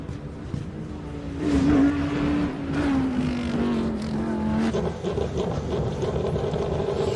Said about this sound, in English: Ricky Giannacaro in his Lamborghini going up here.